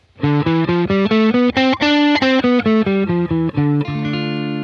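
A Dorian-mode scale on distorted electric guitar: a steady run of evenly spaced picked notes climbing and then descending, ending on a held ringing note, loud and close with no talking.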